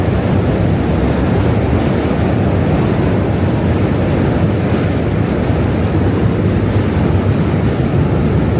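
A train rushes past during a walk in New York City, making a loud, continuous roar that sounds like heavy wind noise throughout, with no talking.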